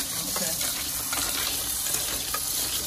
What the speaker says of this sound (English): it's good to do it in the colander because at least it drains as you're washing it